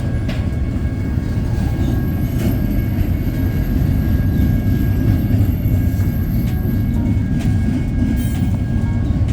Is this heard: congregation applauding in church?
no